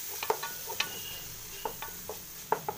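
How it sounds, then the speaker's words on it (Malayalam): Vegetable biryani masala is sautéed in a pan with chopped tomatoes and slit green chillies, producing quiet, irregular stirring scrapes and light taps against the pan over a faint sizzle, with no voices. "നന്നായിട്ട് ഈ മസാല ഒന്ന് വഴറ്റിയെടുക്കണം."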